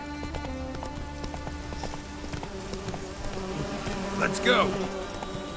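Roach the horse gallops in Witcher 3 on arrival in Skellige, with steady rhythmic hoofbeats running throughout and a voice speaking briefly over them.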